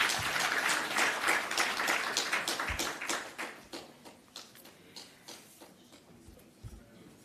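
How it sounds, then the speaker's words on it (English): Applause from a summit audience for a panel, dense at first and then thinning into scattered claps that fade out by the end. "Please give them another round of applause."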